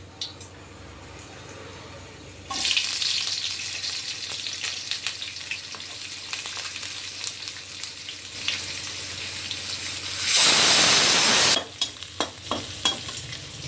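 Onions tossed into hot oil with mustard seeds and cumin sizzle and crackle loudly in a pan, with stirring scrapes and a brief burst of stronger hissing near the end.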